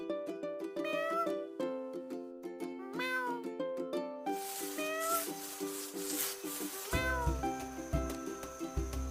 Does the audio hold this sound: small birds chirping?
no